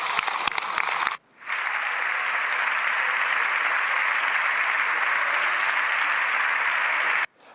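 Members of a parliament break into sustained applause, a dense, loud wash of clapping from many hands that begins after a few scattered claps and then cuts off abruptly.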